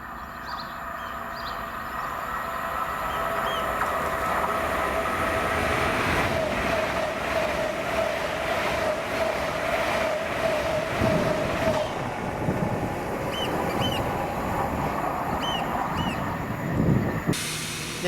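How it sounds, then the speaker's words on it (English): LNER Class 800 unit 800 111 on a King's Cross service from Aberdeen passes at Monifeith, a loud sustained rolling rumble and hiss with a steady tonal whine, easing off toward the end. "the 1058 London North Eastern Railway service to London King's Cross from Aberdeen with 800 111"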